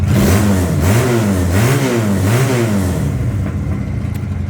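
Close, loud Futong Prince 250 motorcycle engine blipped several times in quick rising-and-falling surges, then settling to a smooth idle.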